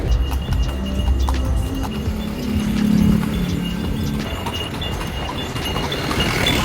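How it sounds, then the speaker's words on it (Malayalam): A horse's hooves clip-clop on the road as it pulls a tonga cart through Bali. The steady beat sounds close, with the rumble of the cart's wheels running underneath it. "നമ്മൾ ഈ ടോങ്ക ഒരു റൈഡ് എടുക്കാമെന്ന് വിചാരിച്ചു."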